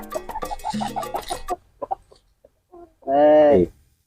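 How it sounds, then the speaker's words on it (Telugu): A fighting rooster at a Sankranti cockfight gives a short burst of loud, close clucking after someone speaks excitedly, with a few scattered noises in between. "చూసావా నా కోడిని నా కోడి దెబ్బకి నీ కోడి పారిపోద్దు"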